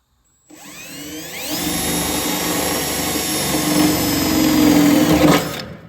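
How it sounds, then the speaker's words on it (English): Whiz wheel cutting into rusty A-pillar sheet metal on a Mopar Duster, a steady high-pitched grinding whine that starts abruptly, holds loud and close for several seconds, then spins down. "If you got an open spot, you can start with the whiz wheel."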